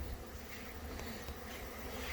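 Honeybees robbing and fighting at a hive in a bee yard at noon, some scuffling on the ground, make a steady dense buzzing drone that stays constant and fairly close throughout, with no voices.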